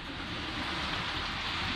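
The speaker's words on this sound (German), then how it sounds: "Das klingt auch nach sehr, sehr starkem Regen." Rain falling in a Panama jungle makes a dense, steady hiss of drops that fills the whole moment, close and without voices.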